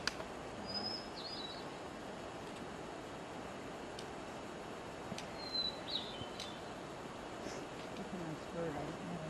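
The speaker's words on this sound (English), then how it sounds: "That's a nice bird." A bird sings along a hiking trail on the Chilkoot Trail in Alaska, giving a few short, high chirps spread through a quiet outdoor scene with faint background hiss.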